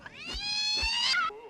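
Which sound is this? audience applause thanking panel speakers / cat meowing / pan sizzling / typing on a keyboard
cat meowing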